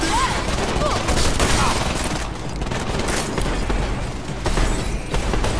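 Gunfire in the Deus Ex: Mankind Divided video game, dense rapid bursts of shots and booms filling a loud, chaotic firefight that runs throughout.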